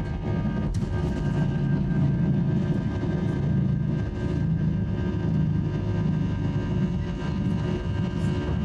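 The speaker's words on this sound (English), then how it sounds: "welcome aboard another Airbus A319" Steady broadband drone inside the cabin of an Airbus A319 airliner with a business class section, a continuous low rumble at constant loudness throughout with no talk.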